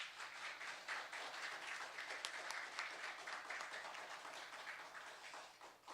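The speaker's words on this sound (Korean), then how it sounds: "우리 단임보 축하한다고 큰 박수 부탁합니다" Applause from a church congregation during a Sunday worship service, honoring a newlywed member; steady, dense clapping that fills the room at a moderate level for the whole stretch, with no talking over it.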